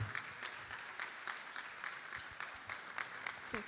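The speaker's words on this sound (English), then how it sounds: "So clap the loudest you've ever clapped." Audience applause at a university ceremony, a dense steady patter of many hands clapping throughout, fairly loud and continuous with small surges.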